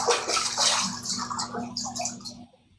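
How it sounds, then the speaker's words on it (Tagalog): Water pouring and filling until it overflows, a bright, splashing rush with dripping and gurgling that stops abruptly near the end. "bilis naman umapaw ng tubig"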